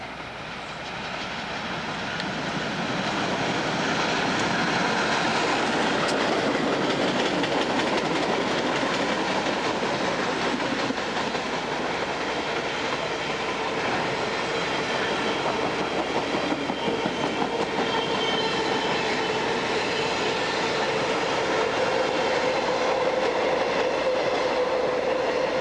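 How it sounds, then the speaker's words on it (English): An empty eastbound CSX Iron Highway freight train rolls by on the Plymouth Subdivision in 1996, a steady loud rumble of wheels clicking over rail joints that builds in the first seconds and then holds for the rest of the pass. "Here comes another iron highway train with absolutely nothing on it."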